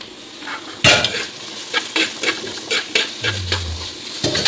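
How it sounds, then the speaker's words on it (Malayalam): Fish curry masala sizzles in a pan while a spoon stirs it in repeated scraping strokes, with light clinks of utensil on metal; close and moderately loud, no talking. "ഇതിന് നമുക്കിങ്ങനെ വഴറ്റി കൊടുക്കണം"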